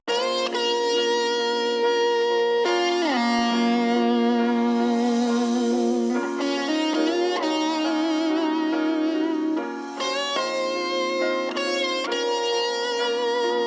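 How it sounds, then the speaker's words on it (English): Sampled Italian-style melodic electric guitar part, time-stretched to 140 BPM, playing sustained bright notes with sliding pitch changes, steady and close with no talking. "the first part of the beat, which is like electric guitar you hear"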